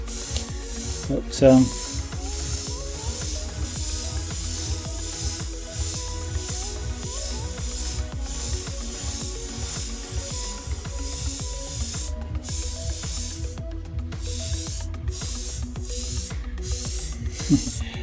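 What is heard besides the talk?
airbrush spraying paint on a model canal boat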